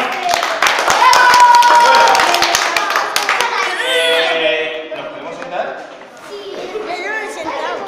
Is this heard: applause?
yes